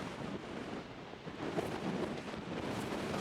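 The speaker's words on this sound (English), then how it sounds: "How windy is it? It is sideways beard windy." Strong wind blows across a barren desert highway in Baja, buffeting the microphone as a continuous rough roar that swells and eases without any voices.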